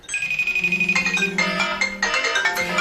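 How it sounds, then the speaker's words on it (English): Several iPhones ring at once for an incoming FaceTime video call, their overlapping electronic ringtone melodies repeating in a steady, loud, layered pattern with no talking. "Sorry, I just set this up on like a million devices, so they're all going off."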